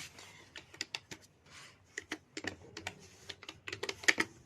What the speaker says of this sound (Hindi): आपको यहाँ पे लिखना है एपीटी अपडेट